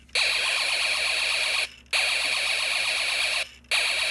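Snap Circuits electronic alarm from the weird sound 2 project with red and yellow LEDs, giving a shrill, steady electronic tone in long bursts separated by two brief gaps.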